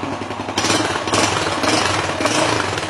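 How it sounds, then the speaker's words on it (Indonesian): Yamaha Jupiter Z1 motorcycle engine revving up close, a loud, steady mechanical roar that surges higher around the half-second mark and holds at raised revs with small throttle swells. "suaranya lebih jos, gas lebih tinggi sedikit, dan suara mesin halus"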